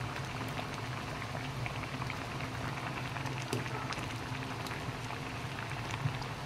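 Milkfish in coconut milk simmers in a covered pot with a steady close bubbling and light popping that continues throughout, with no talk over it.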